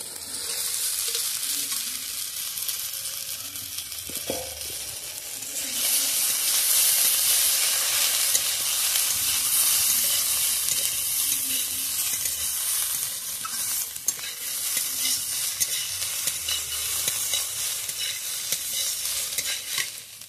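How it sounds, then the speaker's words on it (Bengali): Morola fish frying in spiced masala with turmeric, a steady loud sizzle and hiss running throughout with occasional stirring scrapes, swelling louder partway through, no voices. "মশলা কষানো হয়ে গেছে, এবার আমি মাছটা দিয়ে দেবো"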